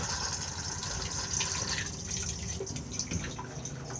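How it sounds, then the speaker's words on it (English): A Thetford cassette toilet in an Elddis Majestic caravan flushes with a hissing rush of water, then trickles and drips close by, steady for a few seconds with no voices. "and then push to flush just here"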